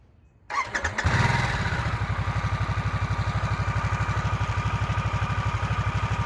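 Harley-Davidson Nightster Special motorcycle engine cranking and firing up, then settling into a loud, steady, pulsing exhaust idle recorded up close.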